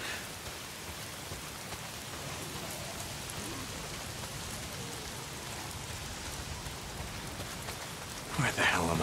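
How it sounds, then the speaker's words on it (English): Rain pours steadily in the Days Gone video game, a dense, even hiss of drops on surfaces. It stays constant throughout, with a louder burst of noise near the end. "If it's not the freaks, it's the goddamn rain. Why is it always raining?"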